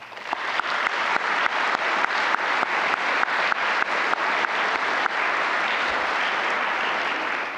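Audience applause at the welcome session of the VIS 2023 conference: steady, dense clapping from a large crowd, loud and sustained throughout with sharp individual claps standing out.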